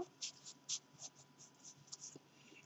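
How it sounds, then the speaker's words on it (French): A pen scratches across a photo in a small journal, producing soft, quick, uneven strokes close up and fairly faint, with no voice over it. "Sur la photo, on peut écrire aussi."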